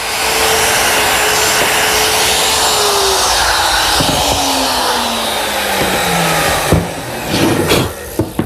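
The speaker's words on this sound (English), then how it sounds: "Using my router and a jig, I'm able to make a series of holes which is going to receive the clips to support the shelves." A router fitted with a shelf-pin jig whines loudly and continuously as it bores a series of holes in a teak bar cabinet part, its pitch slowly dropping under load, with a few knocks near the end.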